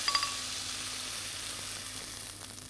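Mushrooms fry with thyme in a pan, giving a steady close sizzle after a couple of quick clinks at the start, with no talking heard.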